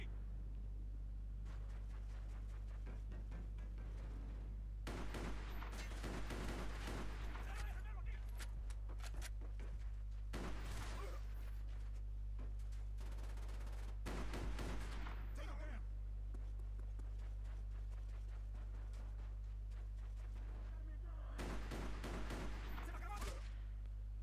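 Bursts of rapid gunfire from a video game Gun Game match come in several clusters of repeated shots over a steady low hum, with quieter gaps between the volleys.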